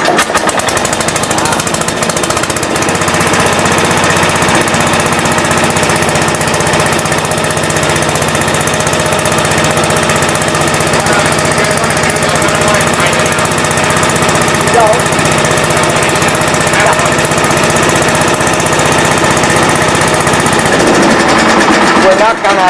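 A tractor engine runs loud and close for the whole stretch, a steady rattling, knocking drone that shifts slightly as the throttle and choke are adjusted; voices talk over it.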